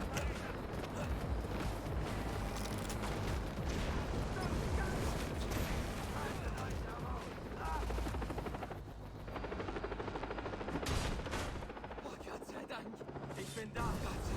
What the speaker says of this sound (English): Careful explosion, yeah.